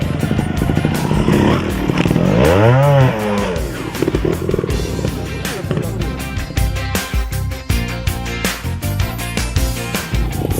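Trial motorcycle ridden on a training course, the engine revving hard in a rising and falling sweep, then choppy bursts of throttle and clattering as it turns through a curve, loud and close.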